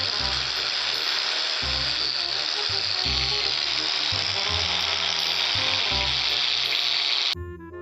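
A cotton sewn buffing wheel loaded with white rouge compound runs steadily against an aluminum three-piece wheel lip, giving a continuous loud whirring hiss with a low pulsing hum, close and unbroken until it cuts off near the end.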